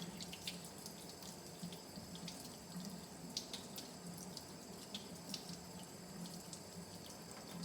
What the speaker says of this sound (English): So I'm going to give them a final rinse,